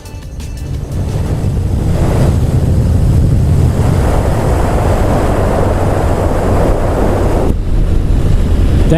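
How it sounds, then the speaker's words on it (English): Heavy, constant wind roar buffets the microphone while riding a Triumph Sprint GT SE 1050 motorcycle on the road, building quickly in the first second and then staying loud and steady throughout. "Damn, it's windy."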